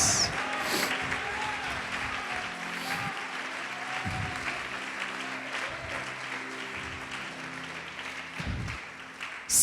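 A church congregation applauding together, with steady sustained clapping from a crowd in a large hall over soft background organ tones, fading slightly toward the end.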